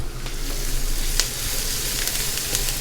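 Onions and garlic sauté in a 13.5-inch Heritage Steel deep wok, a steady close sizzle with occasional sharp pops and stirring scrapes, no voices.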